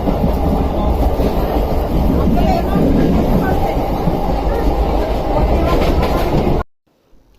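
A passenger train rolls in with a loud, close rumble and rhythmic clickety-clack of wheels over rail joints, voices mixed into the din, before the sound cuts off abruptly near the end.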